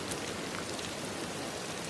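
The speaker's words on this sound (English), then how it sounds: "Just let the rain remain soft and steady." Soft, steady rain falls evenly throughout, a gentle continuous patter with no voices.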